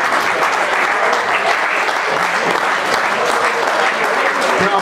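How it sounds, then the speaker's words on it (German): Dense, steady applause from a crowd at a press conference after a football match between 1. FC Düren and Alemannia Aachen, loud and continuous throughout with no pause. "Der Applaus ist dir gewiss und natürlich auch Carsten gewiss."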